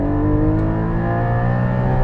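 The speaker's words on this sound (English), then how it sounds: "I've got the exhaust on low, but I'm just experiencing full induction noise" Inside a Porsche Cayman GT4 on the move, loud steady induction noise fills the cabin as a rich harmonic engine drone holding a constant pitch, with the exhaust set to its quiet mode.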